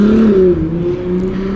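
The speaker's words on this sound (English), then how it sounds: "Yes, your car is very loud, my friend, very loud." A loud car engine revs close by, a steady droning roar whose pitch dips slightly and then holds, with no talk over it.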